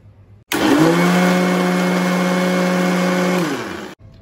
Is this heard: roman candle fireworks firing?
no